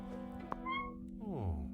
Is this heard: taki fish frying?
no